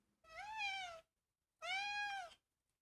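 A cat gives two drawn-out meows, close and clear with a short pause between them and no other sound around.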